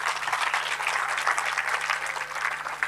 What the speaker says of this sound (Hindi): तो तालियां बजाया करिए।